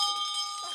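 A bell rings to close a morning devotion broadcast on radio, a bright, sustained ringing tone that lingers briefly under faint background noise.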